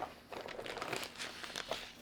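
Thin plastic bag crinkling as a colour calibration sensor (EIZO EX4) is sealed inside it for storage, a steady close rustle of repeated soft crackles lasting a couple of seconds with no talk.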